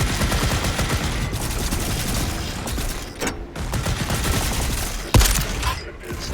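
Rapid, sustained minigun fire in the Volcanoids video game, a dense continuous rattle of shots that dips briefly midway and surges again with a sharp burst near the end.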